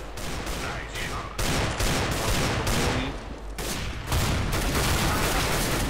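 Shotgun fire in Counter-Strike: Global Offensive, a dense wash of loud, close gunfire with several heavier blasts cutting in at intervals over about six seconds, with no talking.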